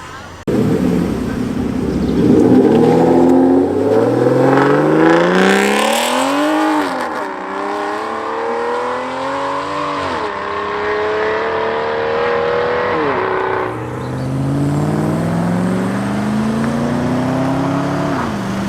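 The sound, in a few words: classic cars driving away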